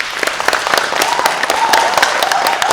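An audience at a student union election debate claps in a steady, crowded patter, individual hand slaps clearly audible throughout, with no talking.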